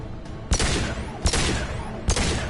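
Pistol gunfire in Mass Effect 2: three evenly spaced sharp shots about three-quarters of a second apart, each a punchy crack with a brief ringing tail over a steady game combat ambience, no voices.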